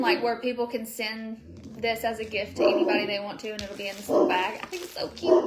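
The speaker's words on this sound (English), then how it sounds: "dogs barking at this person coming to pick this stuff up." Dogs barking at a visitor arriving to collect items, a few sharp barks and yips mixed in behind someone talking close up.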